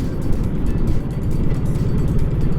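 A motorcycle rumbles loud and near on a Florida road, a continuous throbbing engine with pulsing low chug and wind noise as it rides on, no voices.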